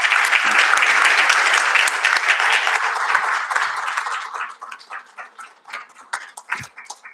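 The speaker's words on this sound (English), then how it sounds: "Please give a round of applause." A conference audience at a Saudi-Japan ministerial investment forum gives a round of applause, dense and loud at first, then thinning into scattered claps that fade out.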